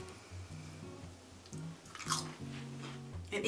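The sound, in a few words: crunchy air-fried frozen onion rings being chewed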